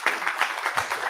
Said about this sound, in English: give a round of All done. applause to the Phil.